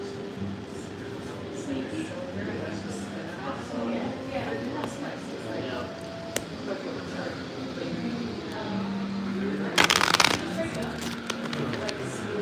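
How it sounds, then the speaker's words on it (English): Tarot cards are handled and shuffled with soft rustles and flicks, ending in a short burst of rapid riffling, while a person talks throughout. "let's pull some cards"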